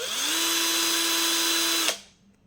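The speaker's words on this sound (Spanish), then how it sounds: "cuando yo enciendo el taladro" Cordless drill converted to run on mains power, motor whirring loudly and steadily at full speed for nearly two seconds, then cutting off abruptly and spinning down into near silence.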